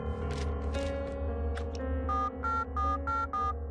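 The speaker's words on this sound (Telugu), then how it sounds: "రింగు వెళ్తుందయ్యా." A telephone ringback tone in a Telugu action thriller film: short electronic tone bursts repeat in an even rhythm over a steady low hum and background score.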